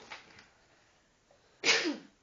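A single sharp, loud sneeze bursts out near the end after a quiet stretch with faint breathing indoors.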